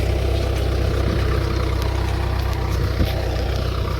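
A tractor engine idles steadily at close range, a continuous low rumble with a heavy throb that holds even throughout with no pauses or revving.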